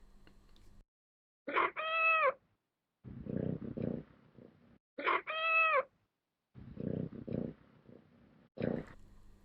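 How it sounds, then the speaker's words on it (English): A pet cat named Sam Sam is sampled and played back on an Arturia Emulator II V software sampler, giving two distinct pitched meows separated by softer, lower mewing and rumbling sounds. The meows are clear and close, with gaps of near silence between them. "using a sample I have of my cat Sam Sam in the user library"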